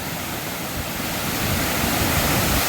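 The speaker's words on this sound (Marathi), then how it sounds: "आपल्या समोर आता धबधबा आहे जो कातळखडा राजापुरातील प्रसिद्ध धबधबा" Katalkhada waterfall in Rajapur roars at night as a steady, dense rush of falling water, loud and unbroken throughout, with no voices.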